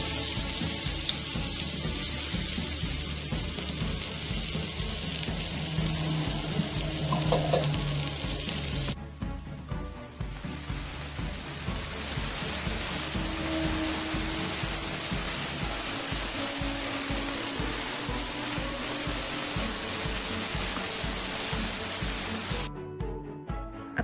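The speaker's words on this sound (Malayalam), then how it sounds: "ഇനി ഞാൻ ആ പാനിലേക്ക് തന്നെ കുറച്ചുകൂടിയും സൺഫ്ലവർ ഓയിൽ ഒഴിച്ച് കൊടുക്കുന്നുണ്ട് നമ്മുടെ ചിക്കൻ വറുക്കാൻ വേണ്ടിയിട്ട്." Marinated chicken pieces fry in sunflower oil in a pan, a loud, steady sizzle and crackle that runs throughout with occasional stirring, briefly dipping before the frying continues.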